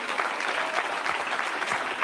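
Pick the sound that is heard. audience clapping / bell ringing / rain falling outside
audience clapping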